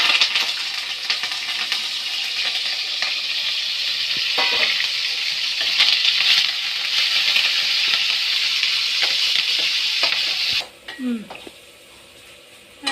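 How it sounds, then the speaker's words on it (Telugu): Green chillies, curry leaves and tomatoes frying in a pan for fish curry, a loud, steady, hissing sizzle with faint knocks, then abruptly dropping to a much quieter background with a brief low murmur. "ఇప్పుడు పచ్చిమిర్చి, కరివేపాకు, టమాటా 3 వేసేస్తాను"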